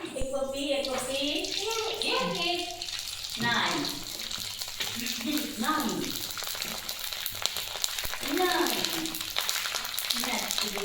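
Potato sabudana chakli dough frying in hot oil, a continuous bubbling sizzle running throughout while people talk over it.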